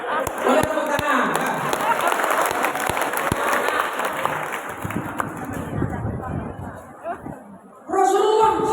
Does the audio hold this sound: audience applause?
yes